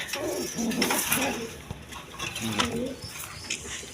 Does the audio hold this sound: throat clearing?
no